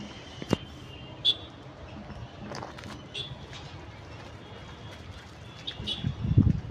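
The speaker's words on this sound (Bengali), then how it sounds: "পাখির আওয়াজ" Scattered birds chirp faintly in the distance, a few short tweets rising over quiet outdoor background with occasional footsteps.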